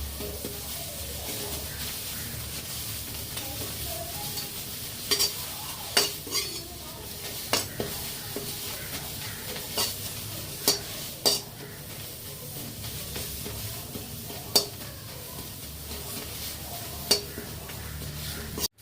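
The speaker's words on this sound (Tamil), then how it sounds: "இதுவும் நல்லா ட்ரையாக ஆகிற வரைக்கும் ரோஸ்ட் பண்ணணும் மீடியம் ஃப்ளேமில்" Curry leaves dry-roasting in a kadai over a medium flame for paruppu podi, a soft steady crackle and hiss punctuated by sharp periodic clinks of a metal spoon against the pan.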